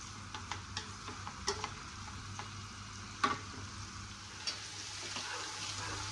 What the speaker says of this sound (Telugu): ఇదైతే ఫ్రై అవుతూ ఉంది